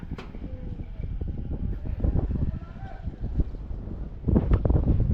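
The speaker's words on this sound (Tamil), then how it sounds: "செம்ம காற்று." Gusty wind buffets the microphone with a rough, low rumble throughout, swelling louder near the end, with faint voices underneath.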